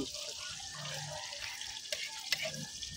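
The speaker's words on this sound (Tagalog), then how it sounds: "Gisa-gisahin po natin yung bawang hanggang sa magkulay brown." Chopped garlic sautéing in oil in a pan for Filipino native chicken tinola, a faint, steady sizzle with occasional light stirring clinks, quiet and close.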